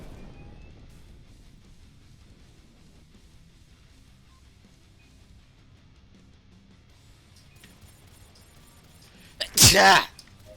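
A single loud, sharp sneeze bursts out near the end after a long stretch of near-quiet background.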